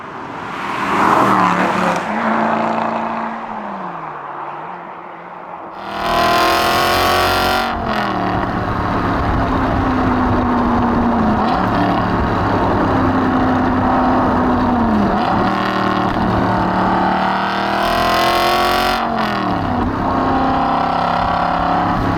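An Aston Martin V8 Vantage GT4 with a loud exhaust revs hard nearby, the V8 climbing and falling through repeated blips, sharp crackles and sustained high-rpm holds, with no talking.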